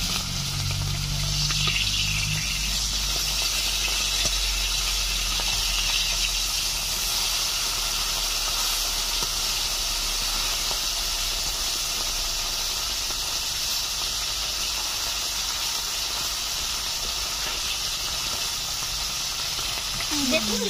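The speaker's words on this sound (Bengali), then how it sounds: "মিডিয়াম আছে আস্তে আস্তে মাছগুলোকে ভেজে নেব।" Bata fish fry slowly in hot oil over medium heat, giving a steady, close sizzling hiss that runs unbroken for about twenty seconds, with brief low sounds early on and no speech.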